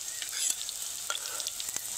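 Mango leaf lollipops, tender leaves fried with their stalks on, cook two at a time in hot oil, making a soft, even sizzle with a few faint crackles.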